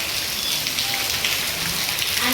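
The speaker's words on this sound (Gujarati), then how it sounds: "અત્યારે જો રાતના 9:30 વાગ્યા ને વરસાદ ચાલુ થઈ ગયો છે ધોધમાર" Heavy rain pours at night in a village, a dense steady hiss of drops drumming on surfaces, loud and continuous with no pauses or voices.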